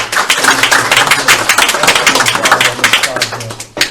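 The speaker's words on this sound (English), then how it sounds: "I think we should definitely give him a round of applause" A public commission meeting room gives brief applause for the plan's designer, dense close clapping from a small group lasting several seconds, with voices mixed in.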